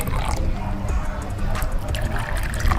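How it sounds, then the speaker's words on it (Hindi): Water pours into a glass while making masala shikanji lemonade, a steady close trickle that runs the whole time with some speech over it. "गिलास में मैं थोड़ा सा पानी ऐड कर लेता हूँ"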